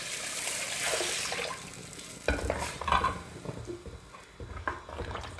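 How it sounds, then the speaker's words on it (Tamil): Fish curry liquid pours and splashes into a hot pan, followed by bubbling sizzle and a few scraping stirs, close up with no talking. "இப்போ நம்ம குழம்பு ஊற்றிடலாம்."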